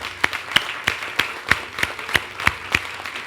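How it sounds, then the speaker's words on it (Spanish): Church congregation at a worship service clapping in unison, a steady rhythmic beat of about nine distinct claps, moderately loud and evenly spaced. "Den un aplauso al Señor"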